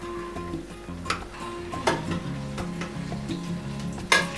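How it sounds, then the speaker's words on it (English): Banana ball fritters (cekodok pisang) frying in oil in a pot, a low bubbling sizzle broken by a few sharp spoon clinks against the pot, with no talking. "So we're going to fry this cekodok until it is brown in color"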